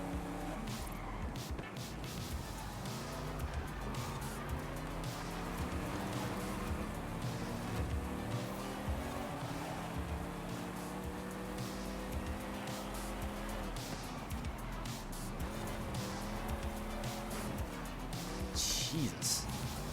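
BMW race cars in the Forza racing game, engines whining and tires squealing and skidding over a steady game mix, with talking heard through much of it.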